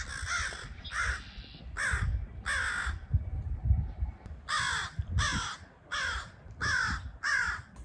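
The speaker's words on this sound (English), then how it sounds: "That's when I met the crows." Crows cawing near a railroad, a series of loud, harsh calls in short bursts, two or three at a time, with pauses between, over a low rumbling background.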